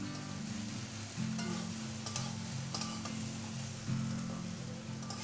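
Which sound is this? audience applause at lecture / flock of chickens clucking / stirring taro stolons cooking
stirring taro stolons cooking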